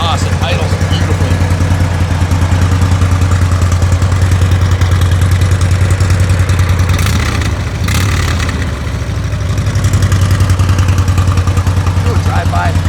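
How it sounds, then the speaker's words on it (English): A 1997 Harley-Davidson Heritage Springer sits at idle with a steady, deep loping rumble, loud and close throughout, with a brief dip near the end and a voice talking over the engine. "Listen to the rumble. It's awesome. Idles beautifully."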